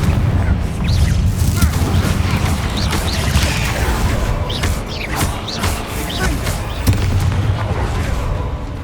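A Confringo fire spell bursting in Hogwarts Legacy, a dense, loud roar of booming impacts and crackling debris that fills the whole moment with sharp cracks scattered through it.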